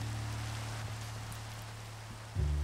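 Rain in a Minecraft modpack game hisses steadily and evenly under a low droning hum that swells briefly near the end, with no voices.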